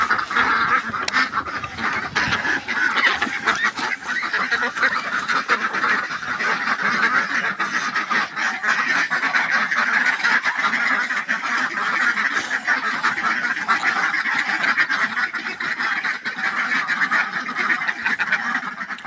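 A large flock of geese and ducks honks and quacks continuously, many birds calling over one another in a dense, noisy chorus nearby.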